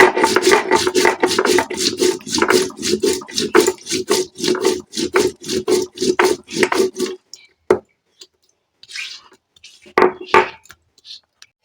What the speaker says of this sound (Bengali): এবারে নিয়ে নেব জিরে জিরেটাকে বেটে নেব